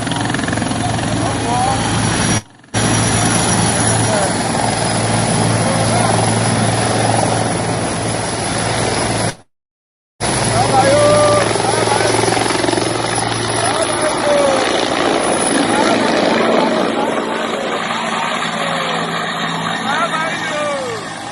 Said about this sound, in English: Let me play that video of a helicopter coming down.